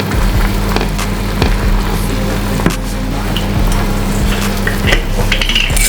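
A vegetable gravy mix simmering and reducing in a pan, with a steady close sizzle and bubbling broken by a few clinks and scrapes of a utensil, and no talk.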